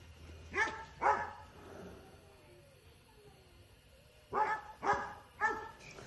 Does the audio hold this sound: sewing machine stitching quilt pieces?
no